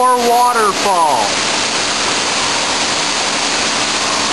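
Indoor waterfall beside a fish tank at the National Aquarium in Baltimore, a loud, steady broadband rush that fills the whole clip, with a voice heard briefly over it at the start.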